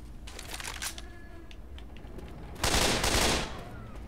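Assault rifle fire in Left 4 Dead 2 erupts as a loud, dense burst lasting under a second, following a stretch of quieter scattered clicks and distant shots.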